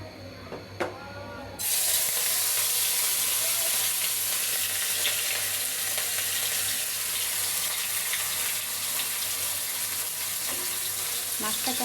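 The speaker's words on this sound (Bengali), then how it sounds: "এই যে রুই মাছটা, এটা এখন ঢেলে দিচ্ছি।" Rohu fish pieces slide into hot oil and set off a loud, steady sizzle that starts abruptly after a quieter moment and keeps crackling without a break, with no one talking over it.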